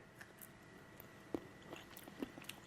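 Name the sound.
eating salty fermented lemon straight from the jar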